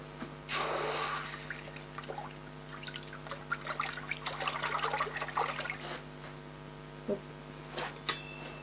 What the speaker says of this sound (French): une fois que c'est badigeonné, on peut finir de le refroidir dans l'eau